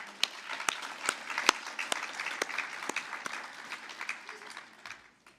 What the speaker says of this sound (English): please extend another round of applause to our faculty